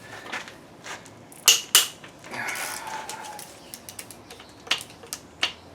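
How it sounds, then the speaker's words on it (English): A worn 11 mm socket ratchet skipping on a bolt during a 2007 Chevy 5.3 engine rebuild, heard as scattered sharp metallic clicks and snaps, several strong bursts, close up in a quiet space. "So this thing is kind of skippy tooth loose here."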